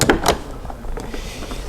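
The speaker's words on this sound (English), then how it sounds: "So, the boot door is not surprisingly lighter because there's no wheel to it" The boot door of an electric Mercedes G-Class, lighter with no spare wheel mounted on it, opens with a couple of quick close clunks followed by a soft mechanical rustle.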